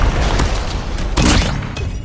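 A grenade detonates in Call of Duty Mobile cranked mode, a loud, dense boom with a sharp burst partway through and steady rumbling noise around it, no talking.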